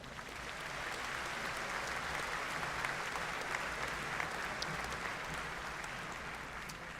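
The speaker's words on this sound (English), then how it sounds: "Let's give him a big round of applause." A large audience at a university spring commencement ceremony claps in steady, sustained applause that fills the hall evenly throughout, heard somewhat distantly with no speech over it.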